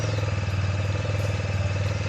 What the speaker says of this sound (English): Hear the engine. I've got revs, and you're going to slowly release that clutch.